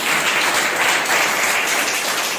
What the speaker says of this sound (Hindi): अभी एक जोरदार और ताली बजाएं।